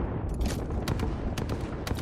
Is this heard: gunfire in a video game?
yes